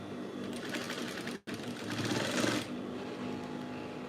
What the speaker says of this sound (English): And then I'm going to stitch this other part now.